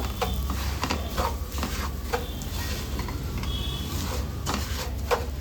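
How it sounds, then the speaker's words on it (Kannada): Steady scraping and stirring of semolina frying in ghee over a low flame for rava ladoo, with a continuous gentle sizzle and repeated spoon scrapes against the pan, no voices. "ತುಪ್ಪದ ಜೊತೆ ಚೆನ್ನಾಗಿ ಬೆರೆಯುವ ಹಾಗೆ ಮಿಕ್ಸ್ ಮಾಡಿಕೊಂಡು ನಿಧಾನ ಉರಿಯಲ್ಲಿ ಫ್ರೈ ಮಾಡ್ಕೊಳ್ಳೋಣ"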